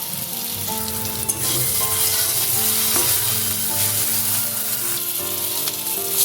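Ginger, green chili and coriander paste with softened tomato and cumin powder sizzling loudly and steadily in a pan as a little water is added, with no talking.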